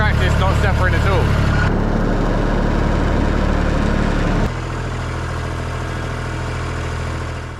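A farm tractor engine rumbles steadily nearby, a deep continuous drone with some rattling at first, then settling into an even idle.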